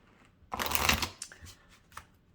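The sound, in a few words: shuffling tarot cards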